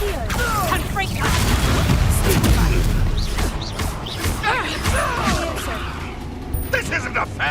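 A Confringo blasting-curse explosion in Hogwarts Legacy in the middle of a spell-casting duel: loud crashing booms and impacts mixed with shouted voices and combat effects.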